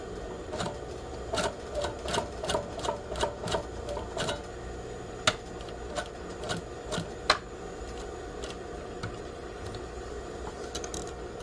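A sewing machine edge-stitches along both sides of a pocket welt, running in a string of quick, even bursts of rapid stitching with short pauses between them. It is close and moderately loud, with a few sharper single clicks later on.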